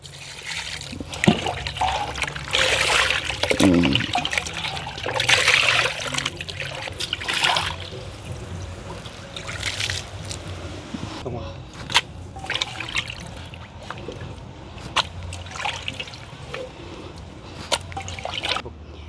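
Raw chicken pieces, cut into medium chunks, are rinsed under running water with trickling, splashing and dripping sounds, interspersed with sharp clatters of handling.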